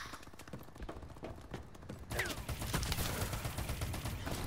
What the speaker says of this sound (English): The fuck is he shooting at me?